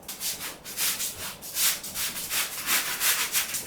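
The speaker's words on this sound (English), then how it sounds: "we're going to go ahead and start the sanding process" Steady, rhythmic scratchy rubbing of sanding a ceiling patch with a sanding brush, repeated back-and-forth strokes close by with no talking.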